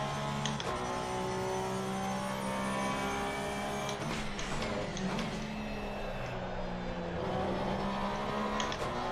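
A GT3 race car engine in Assassin's-style sim Assetto Corsa Competizione revs hard on throttle, rising and dipping with gear changes and brief lifts, loud and continuous throughout.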